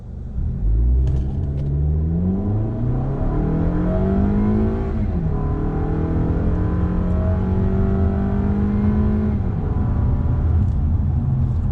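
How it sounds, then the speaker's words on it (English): A 2021 Toyota Camry XSE, front-wheel drive with traction control off, pulls away hard, its engine note climbing loudly through the revs, dropping at a shift and climbing again, heard up close and steady with no voices. "I'm going to do a slight acceleration run here really quick"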